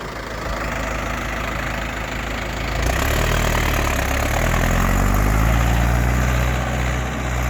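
A tractor engine labours as it pulls a cultivator through a previously harrowed field. It makes a steady, droning mechanical hum with a low rumble that grows louder and heavier partway through, and there is no talking.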